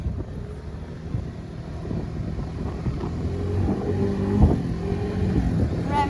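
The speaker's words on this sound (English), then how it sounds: "Revving it up a little bit." A go-kart scooter engine revving outdoors: a rough, buzzing drone that rises and swells, with wind noise rumbling against the microphone and a sharp bump near the end.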